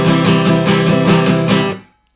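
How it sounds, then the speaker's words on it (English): Harsh, flat guitar chord strumming played at one loud level, a quick run of about eight even down-and-up strokes with bright, brittle attack, then the chord stops abruptly and fades to silence. "So they strum, and their strum, no matter how hard they try, sounds like this"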